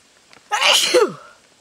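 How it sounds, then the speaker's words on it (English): A single loud, close sneeze bursts out in a quiet room while someone ties cedar branches onto a pot rack, one sharp explosive blast that trails off within about a second. "Oh, I'm going to sneeze."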